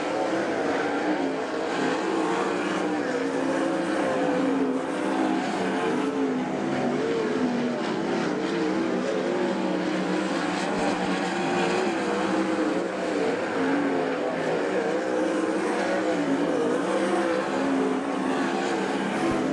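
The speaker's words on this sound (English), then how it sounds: "Big lead for Caleb Henry as he races to the white flag" Race cars at Attica Raceway Park, a continuous loud, droning roar of engines going around the track at full speed, steady throughout with no pauses, and no commentary over it.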